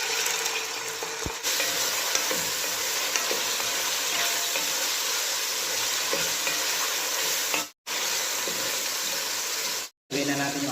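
Strips of chicken breast fry steadily in hot oil for a pancit rice-noodle dish, a dense continuous sizzle with occasional stirring clinks and a couple of brief dropouts, close and fairly loud with no talk.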